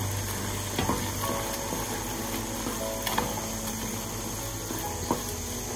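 Peanut oil, olive oil and squeezed lemon juice are mixed in a pot, with a continuous soft sizzling wash broken by a few faint clinks and scrapes of the utensil.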